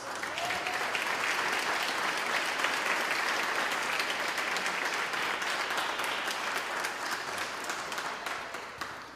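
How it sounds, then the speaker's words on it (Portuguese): A church congregation claps their hands together in a dense, sustained round of applause that fades slightly toward the end. "Bate palmas para Jesus."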